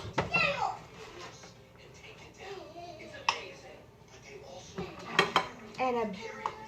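Rice being served into a bowl, with dishes and cutlery clinking and scraping in scattered knocks, close by, while someone talks over the sounds.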